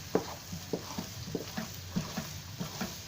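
Poppy seeds roasting dry in a pan, stirred steadily with a spoon, giving soft repeated scraping strokes roughly every half second over a faint low crackle, close and quiet.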